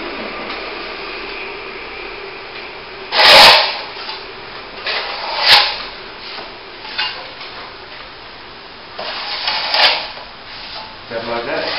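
Steel trowel scraping and rubbing across a plaster top coat on plasterboard repairs, a series of close, rasping strokes in irregular bursts with quieter gaps between.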